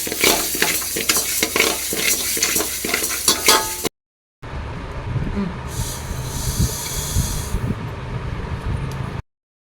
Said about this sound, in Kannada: ಮೆಂತ್ಯನೂ ಸ್ವಲ್ಪ ಉರಿ ಕಡಿಮೆ ಮಾಡೇ ಉರಿರಿ